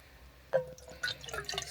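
Water poured into a pot at a camp during a solo bicycle trip, brief splashes and trickling drips close by, fairly soft over quiet outdoor background.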